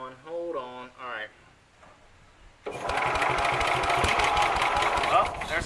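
A Sears Suburban garden tractor engine cranks and catches, a fast, steady mechanical clatter running loudly for several seconds after someone speaks briefly beforehand.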